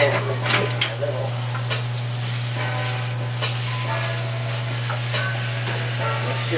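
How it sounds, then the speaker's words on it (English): Ground turkey fries in a pan with a constant sizzle, broken by scraping stirs and utensil clatter, over a steady low electrical hum. "I'm going to go ahead and add my turkey, ground turkey, to that"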